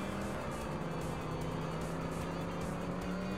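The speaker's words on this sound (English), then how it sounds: "Now at least you can hear the truck a little bit better" A steady, droning truck engine in a racing video game, TNN Motorsports Hardcore TR, revs continuously at high speed, loud and unbroken, with a faint whine running through it.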